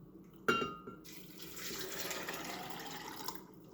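Warm water pours into a blender jar holding rehydrated soybeans, starting with a sudden splash and settling into a steady rushing, gurgling fill that lasts about three seconds before tapering off.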